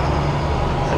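Stewart & Stevenson military surplus truck with a Cat 3126 turbo diesel driving, a steady low rumbling drone with broadband road and engine noise, close and continuous.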